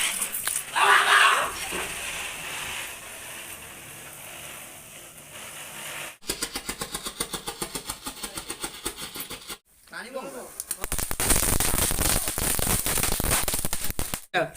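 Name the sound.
Diwali firecrackers bursting outside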